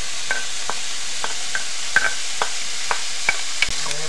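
Celery, onions and mushrooms hit hot olive oil in a pan with a soft sizzle, punctuated by several sharp clicks and scrapes of a spoon stirring, close and clear.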